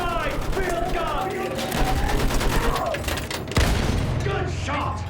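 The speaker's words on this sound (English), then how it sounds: "Left side! Field gun!" Field gun firing in a Battlefield combat game amid continuous battle noise, with repeated sharp booms and gunfire bursts, one heavy blast near the middle, while voices shout over the din.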